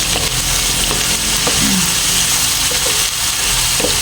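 Food with black pepper and seasonings being stirred and sautéed in a hot pan, a loud steady sizzle filling the clip with occasional scraping of the utensil.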